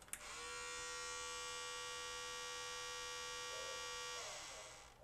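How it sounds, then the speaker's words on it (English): A Denon DCD-F101 compact disc player with a stuck drawer, its motor whirring non-stop in a steady, loud tonal whine that holds for several seconds before tapering off. "I hear a motor just non-stop spinning"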